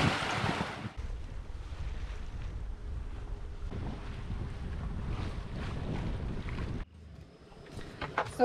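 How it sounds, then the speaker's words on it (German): Steady wind rushing past a sailboat off Mexico's Pacific coast, a broad continuous roar with waves washing against the hull, briefly dropping quieter near the end before gusting again; no voices. "Jetzt haben wir wieder Wind, um ein bisschen zu segeln."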